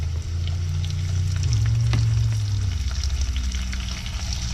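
Shrimp fry in bacon grease with a strong, continuous close-up sizzle, a low steady hum running underneath and occasional faint clinks of a utensil.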